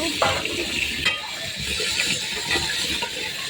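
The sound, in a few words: washing rice in a cooking pot with water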